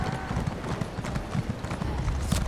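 Horse hooves clip-clopping while riding in The Elder Scrolls Online: a steady, quick rhythm of close hoofbeats over a soft background hiss, with no talk.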